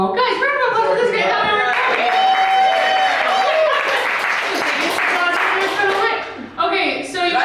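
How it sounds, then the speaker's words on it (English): A comedy show audience applauds and cheers for about seven seconds, dense clapping mixed with whoops and raised voices, close and loud, with a brief dip near the end before it swells again. "guys, round of applause for this guy."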